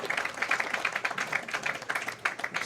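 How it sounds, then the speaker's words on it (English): Scattered applause from a small crowd at a PWBA women's professional bowling title match, many hands clapping in a quick uneven patter that carries on throughout at moderate volume. "we got a little crowd action too"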